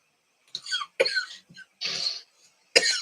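A person coughs several times in short, harsh bursts with brief pauses between, close by and fairly loud.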